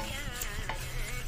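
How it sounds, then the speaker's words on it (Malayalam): Flattened rice (aval) roasting in a heavy-bottomed pan over low heat, a steady soft rustle and faint sizzle of stirring, with light scraping clicks against the metal. "ചെറുതീയിൽ വറുത്തെടുക്കുക."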